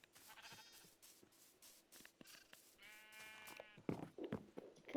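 Sheep in the Minecraft video game bleat several times, some drawn-out and some short, faint and scattered among soft clicks and small game noises, with no talking.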